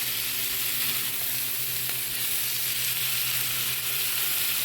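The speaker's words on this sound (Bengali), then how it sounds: "শুধু এই হলুদ আর আদা বাটা রসুন বাটার মধ্যেই সবজিগুলো ভালো করে একটু ভেজে নিব" Carrot, eggplant, potato, cauliflower, broccoli, tomato and green chilli fry in turmeric, ginger and garlic paste. They give a loud, steady, close sizzle that holds evenly throughout, with no speech.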